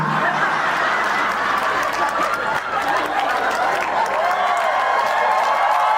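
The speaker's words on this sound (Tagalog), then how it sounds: "Makita nyo, pumalakpak." Applause and cheering from a concert crowd at a live show in Winnipeg, a dense, steady wash of clapping filling the whole stretch with scattered chuckles and murmuring voices mixed in.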